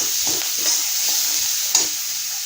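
Drumstick curry frying in a pan as spices and salt are stirred in, a continuous loud sizzle with rhythmic scraping strokes of a spoon and one sharper clack near the end, no talk.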